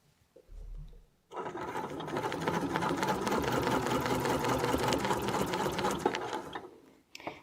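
A sewing machine stitches steadily on a wreath, running loud and close for several seconds after a brief start-up, then stopping.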